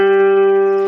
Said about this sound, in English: This is my keyboard, and this is the sound of G.